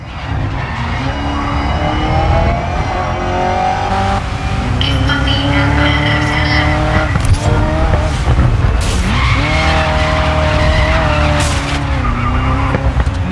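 A Ford GT40 race car in the racing video game Grid Legends skids with a sustained tire squeal over a loud, steady engine drone, the pitch bending as the car slides, with no talk.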